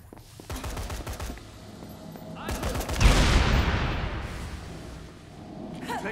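Gunfire in a Dead Rising 3 video game cutscene comes in rapid bursts, then a louder sustained volley that fades into a roaring, rumbling tail.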